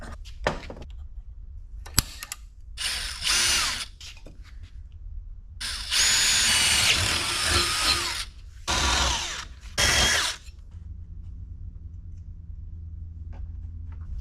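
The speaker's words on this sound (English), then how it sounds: "Drill a couple holes." A power drill bores holes into a part for a 1986 Chevy C10 squarebody, several separate bursts of high whirring a few seconds each with quiet gaps and clicks between, close by.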